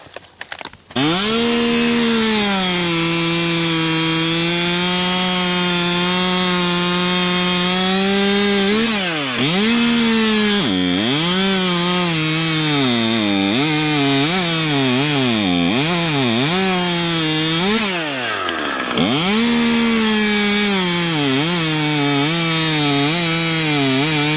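A small top-handle chainsaw, a Stihl MS201TC or Husqvarna T540XP, roars loud and close while cutting a small piece of wood, with the engine pitch dipping and recovering again and again as it bogs into the cut.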